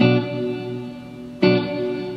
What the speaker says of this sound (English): here's the reverb sound, just the reverb